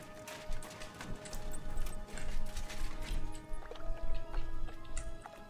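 Horse hooves clip-clop steadily in the medieval video game Kingdom Come: Deliverance II, a close rhythmic clatter of repeated hoofbeats with soft ambient game sound beneath.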